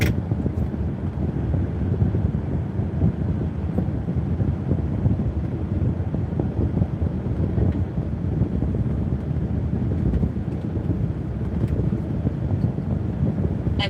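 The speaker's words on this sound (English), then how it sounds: "the wind is blowing here" Steady wind buffeting a microphone inside a car on a chilly day during a drive on British roads from Dartford to Warminster, a continuous low rumbling roar with no speech.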